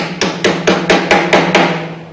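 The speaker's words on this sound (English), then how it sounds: "I'm going to put this at the very top of the wheel, and I'm going to hammer it on." Six sharp, evenly spaced hammer blows tap a clip-on wheel weight onto the top of a tire wheel at a Snap-On wheel balancer, loud and close with a steady hum beneath.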